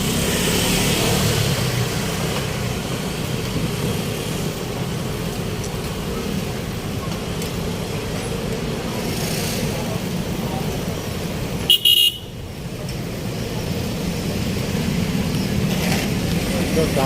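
Steady, loud roar of congested road traffic near the NLEX-SLEX connector in Pandacan, with engines droning continuously and a short car horn blast about two thirds of the way through.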